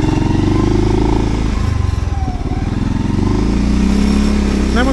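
A 2024 Segway Snarler AT6L ATV rides through a forest, its engine running loud and close with a rhythmic throbbing idle and rev changes, plus clattering over rough ground.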